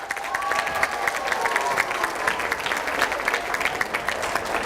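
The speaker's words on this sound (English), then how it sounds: "Let's give them a big round of applause." An audience at a school event in a hall applauds steadily for several seconds, a dense, even wash of clapping with some crowd murmur mixed in.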